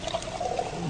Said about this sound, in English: Now let's pour that water into a mason jar with a wire screen lid in place of the normal cap.